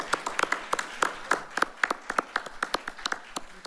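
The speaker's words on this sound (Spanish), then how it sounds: "Un aplauso para el doctor Portilla" Sparse audience at an academic conference on bilateral relations claps for a speaker, each hand clap distinct and fairly close, in a loose, steady rhythm.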